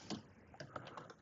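Soft, rapid clatter of a computer keyboard as Python code is typed, a faint string of irregular keystrokes with no voices.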